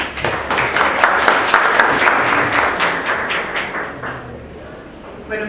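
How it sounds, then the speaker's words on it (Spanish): An audience at a mining-law lecture applauds a doctor introduced as the next speaker, a loud, dense burst of clapping that thins and fades toward the end. "Por favor, un fuerte aplauso para la doctora."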